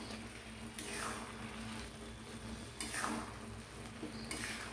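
Stirring and scraping in a cooking pot of boiled food for a Thursday Lakshmi offering, with repeated brushing strokes, faint metallic clinks and a soft background hum, quiet and close.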